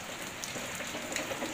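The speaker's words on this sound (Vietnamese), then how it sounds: "mưa nó hắt vào đây rồi" Rain splashing onto surfaces near hanging orchids, a close, steady patter of drops with small crisp spatters scattered through it, fairly faint and continuous.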